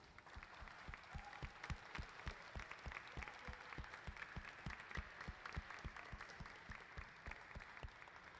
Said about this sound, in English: we can go ahead and give our glass blowers a round of applause